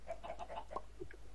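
Chickens clucking in the Minecraft video game, a short run of repeated clucks in quick succession over a steady low background hum.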